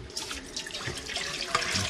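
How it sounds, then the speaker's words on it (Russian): Cold tap water runs over rice in a sieve, a steady close splashing and trickling stream with small drips and gurgles, no voices. "теперь мы его должны промыть через сито под холодной водой"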